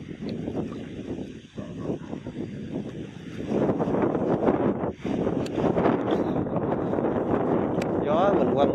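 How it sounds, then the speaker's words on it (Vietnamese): Wind blows across an outdoor fishing spot, a steady rushing and buffeting gust against the microphone that swells louder in the second half, with a voice partly under it. "Bữa nay hơi gió ha các bạn, cá nó sẽ hơi chậm ăn hơn ngày thường tí xíu"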